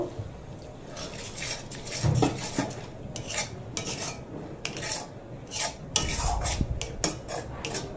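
A spoon stirs and scrapes spice masala with red chilli powder and a splash of water as it sautés in a pan, giving irregular close metallic scrapes and clinks over a faint sizzle.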